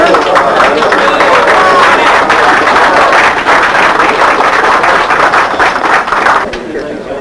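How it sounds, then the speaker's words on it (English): A crowd applauds a poker player leaving the table at the 1973 World Series of Poker, with steady, dense clapping that fades slightly toward the end and a speaking voice over it. "Hooks walks off to a generous ovation"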